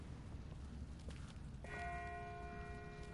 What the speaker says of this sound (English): That's not the same bell as before. This one's further off.